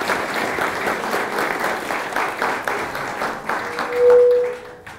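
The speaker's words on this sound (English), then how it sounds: "Everyone, give a big round of applause for John Anderson." A big round of applause from an evening audience at a Hiroshima and Nagasaki commemoration, dense clapping from many people, steady and fairly loud, swelling briefly near the end before fading.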